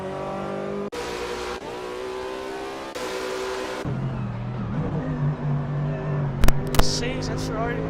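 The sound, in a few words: racing cars driving in Assetto Corsa video game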